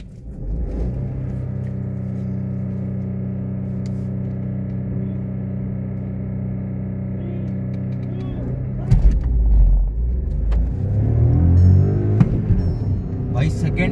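Skoda Kushaq automatic and Skoda Slavia manual car engines roar and rev in a race, a steady drone that gives way to louder, rougher acceleration, with voices talking over it.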